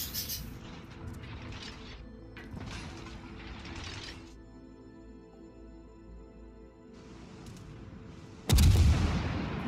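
Naval gunfire from the French cruiser Charles Martel in the World of Warships video game: mechanical clanking and ratcheting of the turrets, then one sudden, loud, booming salvo near the end.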